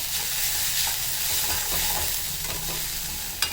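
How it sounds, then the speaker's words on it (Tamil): Onions frying in a pan until lightly browned while being stirred constantly, a loud hissing sizzle up close with scraping spatula strokes and a sharp clink near the end. "வெங்காயம் வந்து கரியக்கூடாது, பட்டு கொஞ்சம் ப்ரௌன் ஆகணும். ஸோ அதனால் இதை கான்ஸ்டண்ட்டாக விடாத கிளறிட்டே இருக்கணும்."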